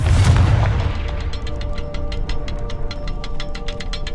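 A Confringo spell explosion in the Hogwarts Legacy video game, a loud deep boom at the start that fades into a rumble, followed by a steady train of crackling ticks as debris settles.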